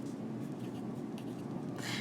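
Chalk or marker scratching and rubbing across a board during a biology lecture, steady and fairly close over a constant room hum, with a brief brighter scrape near the end and no talking.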